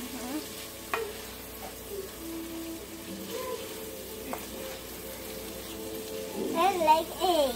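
Eggs fry in a pan while being stirred, giving a soft continuous sizzle with occasional utensil taps, and voices, including a child's, talk over it.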